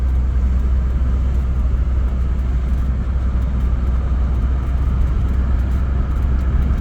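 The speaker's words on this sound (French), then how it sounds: "Elle est dotée d'une boîte de vitesse automatique qui fonctionne très bien comme vous pouvez le voir." Citroën CX Pallas 25 IE with automatic gearbox heard from inside while driving, a steady loud low engine and road drone with no clear breaks as it moves along.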